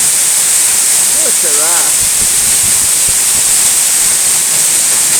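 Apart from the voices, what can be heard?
Eas Mor waterfall, fast-falling water over rocks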